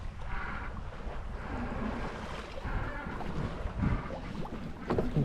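Light wind rushing past a sailboat under spinnaker in a crosswind at sea off Port-le-4, a steady breathy noise with gentle water wash and buffeting against the microphone.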